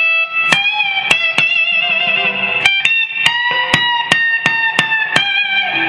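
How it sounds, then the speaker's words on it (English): Plucked electric guitar notes through a Marshall TSL amplifier's reverb ring out one after another, each leaving a long, spacious reverb tail that lingers between strikes. "Let's come back to that reverb just so that you can really see that it's working"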